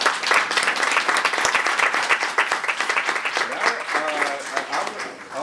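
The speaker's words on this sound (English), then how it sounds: "I want to have a big round of applause for this incredible panel." A crowd applauds steadily, dense clapping from many hands holding at a strong level throughout, with a few voices rising faintly near the end.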